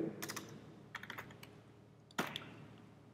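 Someone types code for a Laravel 6 database on a computer keyboard in short bursts of quick, soft key clicks separated by pauses, closing with one sharper flurry.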